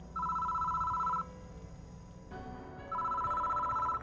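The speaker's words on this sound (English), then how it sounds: "The phone on the desk is ringing." A desk telephone rings in the horror game Death Mark 2, two long electronic trilling bursts separated by a pause, clear and close over a low, droning ambient background with no talking.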